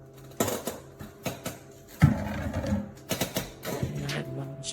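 A paper trimmer slicing vellum paper gives a run of sharp clicks and snaps, some spaced, some in quick clusters, close up, with a brief scraping slide in the middle.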